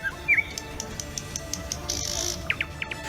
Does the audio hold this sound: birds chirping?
yes